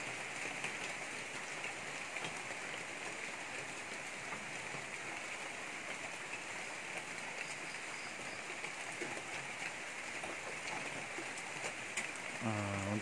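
Steady rain falls at night in a dark forest park in Kelantan, a dense continuous hiss of drops on foliage and ground with no break, close and enveloping throughout.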